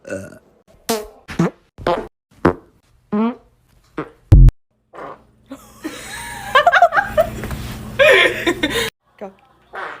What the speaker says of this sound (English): I can't believe you farted like that.